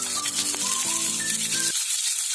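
Onions dropped into hot oil for a cabbage curry sizzle and fry steadily, a bright close hiss running under a tonal musical backing that cuts out near the end.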